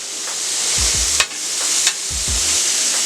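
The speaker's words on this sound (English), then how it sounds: "it's looking like it's time to flip these burgers" Beef burgers sizzle on a Steelmade USA griddle after the flip, a steady close hiss broken by two sharp taps and low scraping thumps from the spatula.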